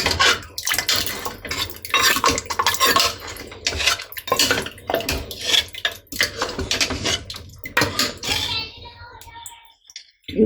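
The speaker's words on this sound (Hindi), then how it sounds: "हम इसे डालते भी रहेंगे और अपना ग्रेवी को हम चलाते भी रहेंगे" Nihari gravy is stirred in a metal pot with a spoon, producing a busy stream of close clanks, scrapes and wet sloshing strokes, with faint voices now and then.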